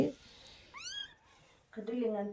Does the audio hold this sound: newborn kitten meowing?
yes